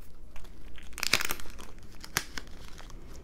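A sheet of paper planner stickers crinkles and crackles as it is handled, with brief bursts of rustling near the microphone and no talking.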